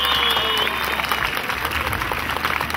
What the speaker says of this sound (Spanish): Si ustedes quieren que ella se lleve el premio, fuerte el aplauso.